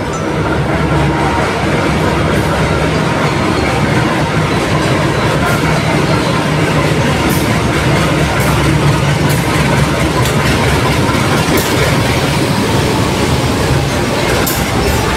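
A CC201 diesel locomotive hauling passenger cars passes close by, a loud continuous rumble of the heavy engine with rhythmic wheel clatter on the rails throughout.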